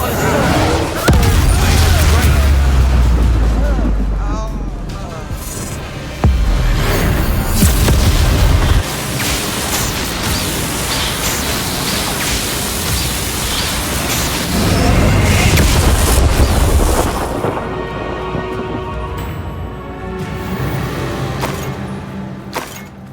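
Repeated booming blasts from Confringo spells in Hogwarts Legacy during the Rookwood battle, with several heavy explosions and rumbling bursts amid game sound and a character's voice.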